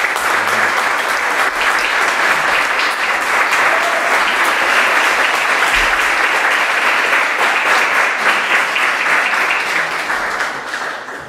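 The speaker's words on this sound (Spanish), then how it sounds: "les quiero pedir un aplauso para él, por favor" Sustained, dense applause from a lecture audience holds steady and loud for about ten seconds before tapering slightly at the close, with little talk.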